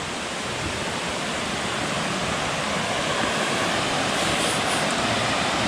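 Water rushes steadily at Tat Kham waterfall in Ban Phaeng, Nakhon Phanom, a dense, unbroken roar that stays loud and even throughout with no voices.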